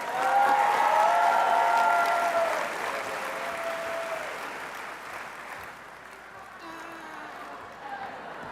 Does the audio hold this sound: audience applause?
yes